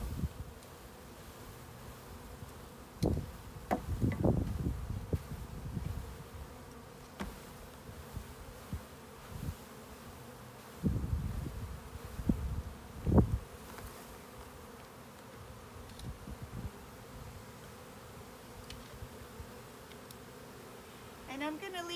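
Honeybees buzz in a scattered swarm as they are shaken from a package box into a new hive, with several louder bursts of buzzing during the shakes and a steadier low hum between them.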